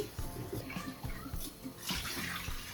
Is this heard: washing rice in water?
yes